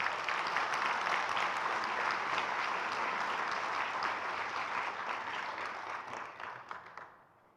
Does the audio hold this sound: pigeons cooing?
no